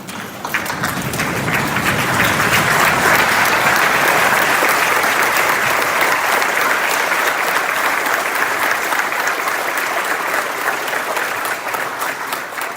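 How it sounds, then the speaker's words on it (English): A large graduation audience gives sustained, loud applause honoring servicemen and women, dense clapping that swells quickly and holds steady for several seconds before easing slightly. "Audience, please stand and give a round of applause to honor all our servicemen and women."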